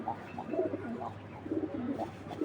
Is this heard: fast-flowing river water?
no